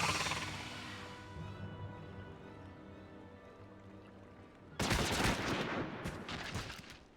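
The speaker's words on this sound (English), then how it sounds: "That's a gun." A gun firing in Final Fantasy XIV: after a long fading ambient wash, a loud, sharp burst of rapid shots erupts, then a second cluster of cracks trails off with echo.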